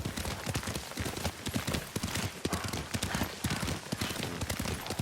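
Horse hooves pound steadily as a rider gallops in Ghost of Tsushima, a fast, close, continuous rhythm of heavy clip-clop strikes.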